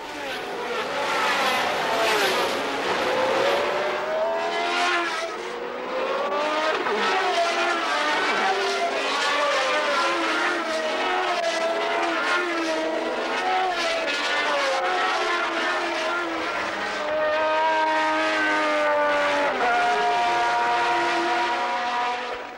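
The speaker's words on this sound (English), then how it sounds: "He passed Jabouille and then took his car round the outside of Arnoux on the famous Tarzan corner" 1980 Formula 1 race cars screaming along a racing circuit, several high-revving engines overlapping in loud continuous waves of rising and falling pitch as the cars pass, with no talk.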